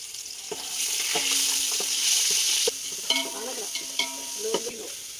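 Ginger, dal and garlic frying in a pan, with a steady sizzle broken by a few sharp knocks and scrapes of a spoon stirring against the metal.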